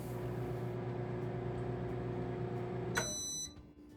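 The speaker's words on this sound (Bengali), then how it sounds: "900 ওয়াটের মাইক্রোওয়েভ ওভেন, তো আমি টাইম দিলাম 2 মিনিট।" A 900-watt microwave oven heats a cup of water, its steady low electrical hum running until a sharp beep near the end, after which the hum cuts off.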